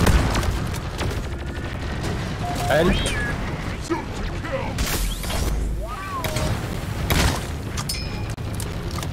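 Autocannon fire in the sci-fi mining co-op game Deep Rock Galactic, heard as repeated mechanical thumps and bursts amid busy game noise, with people talking over it.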